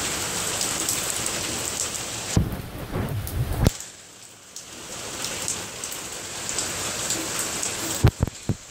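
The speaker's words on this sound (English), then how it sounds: "This is a really, really cool storm." Heavy rain during a storm in Austin, Texas pours down in a steady, loud hiss, briefly louder in a burst and then easing, with a few sharp nearby knocks near the end.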